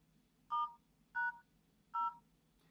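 Three evenly spaced phone keypad dialing beeps from a mobile phone, each short and clear, sounding close against a quiet background.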